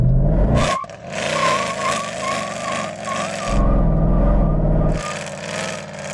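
A 750HP AMG C63 Black Series revs hard while warming its tyres before a drag race, loud engine bursts rising and falling over several seconds, close and dominant, with a brief dip between pulls.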